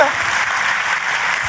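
A church congregation claps loudly and continuously in a dense, even burst of applause, with a faint voice mixed in under the clapping.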